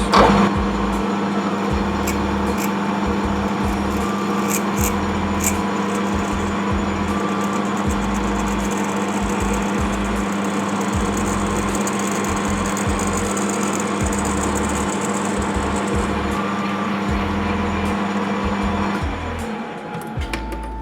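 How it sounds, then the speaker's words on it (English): A steady drill drone boring into a metal whistle valve, with a constant low hum throughout, loud and close, with faint intermittent ticking, then winding down near the end. "We've got our drill here now, and we'll go and drill it."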